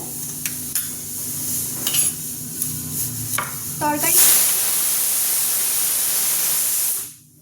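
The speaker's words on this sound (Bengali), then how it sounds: "এখন পরোটা ভাজছি" Paratha flatbread frying in a home kitchen pan, a steady broad sizzle that swells after a few faint clinks and scrapes, then holds loud and continuous before cutting off abruptly near the end.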